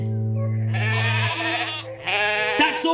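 Farm sheep bleat loudly and close, a long wavering cry followed by a second bleat, with no talking over them.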